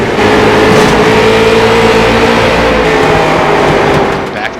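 Street stock race car engine in iRacing at Southern National Motorsports Park, heard onboard: a loud, steady engine drone holding a high pitch, easing off slightly at the very end.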